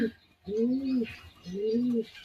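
A pair of red Pilong pigeons coos close by in two soft, rounded, rising-and-falling calls with a short gap between them.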